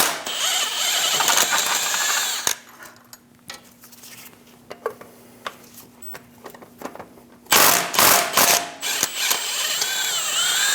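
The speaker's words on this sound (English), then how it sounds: "Using a 13mm socket, remove the 2 bolts for the starter." A ratchet turns a 13mm socket on the starter bolts of a 2003-2025 Chevrolet Express 2500, giving short bursts of close metallic clicking separated by quieter pauses, with no talking.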